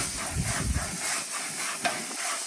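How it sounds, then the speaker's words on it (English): Steam hisses steadily off a hot grill top while a scraper brush cleans it, a soft continuous broadband rush with a faint brief crackle partway through and no voices. "the steam is actually what cleans the top of the grill"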